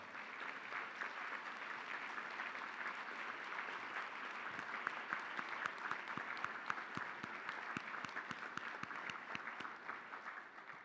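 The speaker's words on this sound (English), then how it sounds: "we can give them a hearty round of applause" Hearty applause from a symposium audience for a standing NSF team, steady dense clapping with many individual sharp claps, moderately distant and continuous throughout without talk.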